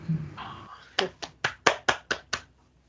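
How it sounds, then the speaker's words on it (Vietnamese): On a Vietnamese TV music game show, sharp handclaps ring out about seven times in a quick, even rhythm, close and distinct, after a short stretch of murmuring. "chúng tôi đã nghe thấy tiếng vỗ tay ạ"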